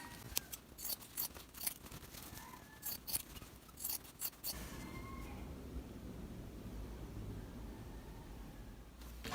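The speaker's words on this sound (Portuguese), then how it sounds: "Vamos cortar um pouco aqui, que tá muito grande." Scissors snip through fabric scraps in a quick series of close, crisp cuts, followed by a quieter stretch of soft rustling and handling.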